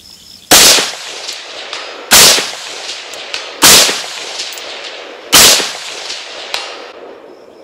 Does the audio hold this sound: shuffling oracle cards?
no